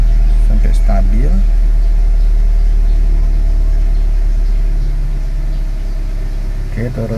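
A Nissan Grand Livina engine idles steadily after a fuel pump replacement, a loud close low rumble running throughout while someone talks over it.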